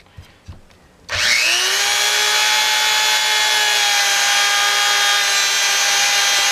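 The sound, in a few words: Dremel rotary tool polishing metal at speed 4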